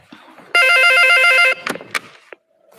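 A telephone rings during a call-in broadcast: one loud, sustained electronic ring burst, followed by a few short clicks and tones before it falls quiet.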